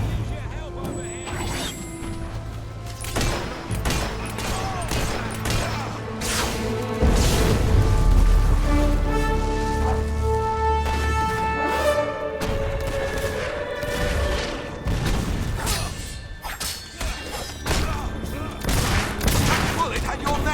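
Battle gunfire in Fable III comes in dense bursts of shots and booms throughout, mixed with heavy crashes and music, while voices shout over the fighting.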